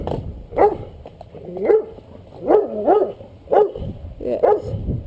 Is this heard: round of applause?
no